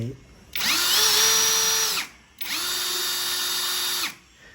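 A MASARU electric drill fitted with a screwdriver bit runs in two steady, high whining bursts of about one and a half seconds each, separated by a brief pause, close and loud.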